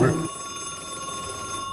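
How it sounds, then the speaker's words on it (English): An old telephone rings loudly inside an abandoned school, a bright sustained bell tone that starts with a strong burst and keeps sounding, with faint voices nearby. "It just rang again? Is that phone?"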